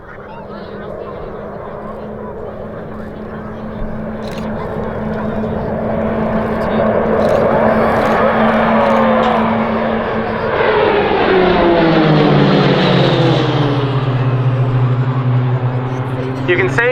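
A RAAF Roulettes aerobatic display aircraft at RAAF Base Point Cook drones loudly overhead, its engine pitch swelling and then dropping sharply as it flies past, under a crowd and commentator's voice.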